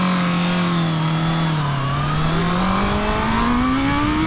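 A 2018 Honda CB650F motorcycle engine accelerates in one loud, steady, rising drone that climbs in pitch as it pulls, heard close with no other sounds.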